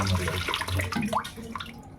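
A tap runs steadily while crabs are rinsed and scrubbed under the stream, with splashing and sloshing close by.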